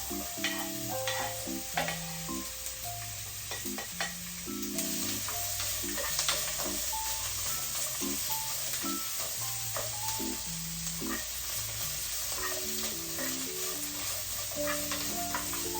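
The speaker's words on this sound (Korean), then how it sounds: "그리고 샐러리를 같이 볶아주도록 할게요." Celery and minced garlic stir-fry in oil in a pan over low heat, a continuous close sizzle with scraping and tapping of a utensil stirring throughout, under a bright intermittent background tune.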